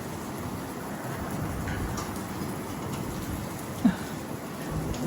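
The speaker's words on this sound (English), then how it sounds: "Rain's coming down now." Steady rain falls outdoors, a soft, even patter on surfaces with a single brief knock partway through and no talking.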